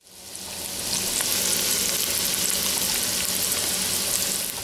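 Chopped garlic and onion cooking down in a pot for chicken, a loud, steady, dense sizzle that holds evenly throughout with no talking.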